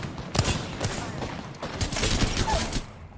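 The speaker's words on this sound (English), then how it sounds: "I swear someone just shot it." Gunfire in an online shooter game, a rapid fusillade of overlapping shots in dense bursts across the whole stretch, fairly distant and moderate in level.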